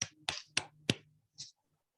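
A handful of sharp hand claps during a Zoom meeting: four quick, evenly spaced claps, then a softer fifth after a short pause, over a quiet background.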